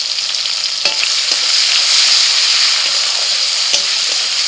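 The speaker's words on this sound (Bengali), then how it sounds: "আবারও কড়াইতে তেল দিয়ে দিচ্ছি টমেটো কুচি, লবণ," Chopped tomatoes fry in hot oil in a kadai with salt and turmeric, a steady close sizzle and hiss with a few sharp spatula clinks against the pan, no voices.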